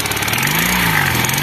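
A motorcycle engine that had been hard to start runs steadily up close with an odd mechanical noise in it, a continuous loud drone with a faint wavering hum beneath and no talking.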